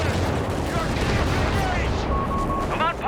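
Carpet bombing in Company of Heroes 3 comes as a dense, rumbling barrage of overlapping blasts and crackling gunfire, loud and continuous, with a brief whistling tone near the end and a voice faintly mixed underneath.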